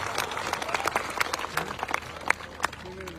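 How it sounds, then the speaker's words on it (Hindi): Applause from an audience at a madrasa gathering, scattered claps and crowd noise over a low hum, with a few louder sharp claps standing out; not a dense, full ovation. "जोरदार तालियां मारो"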